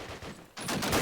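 Gunfire in the World War II shooter Call of Duty: United Offensive, a short burst of rapid shots in a competitive match, mid-loud and crackling, with a brief lull before a denser volley.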